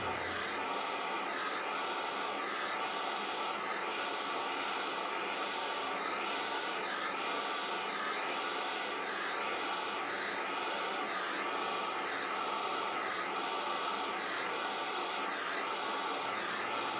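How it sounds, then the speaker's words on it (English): A torch flame heating a silver piece coated with flux, a steady, loud roaring hiss that holds without pause, swelling and easing rhythmically as the flame is moved in and out. "Once the flux is dried, you can move your flame in and out in order to control the temperature of the various parts."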